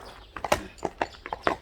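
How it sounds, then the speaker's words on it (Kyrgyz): A large horse's hooves clip-clop in a quick, uneven series of sharp near knocks on a hard surface, heard alone for a brief moment. "Өтө чоң ат экен Мелис."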